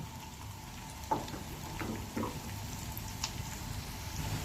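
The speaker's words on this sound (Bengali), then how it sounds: "তো বন্ধুরা, আমাদের পেঁয়াজটা ফ্রাই হয়ে গেছে।" Sliced onions and three dried red chillies sizzling in hot oil for masoor dal, a steady soft crackle with a few sharper pops, close and fairly quiet.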